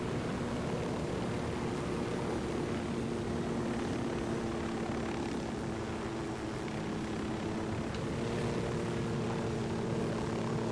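A game aircraft in Ghost Recon Wildlands comes in to land, its steady, droning engine roar filling the scene at a constant level without any pauses.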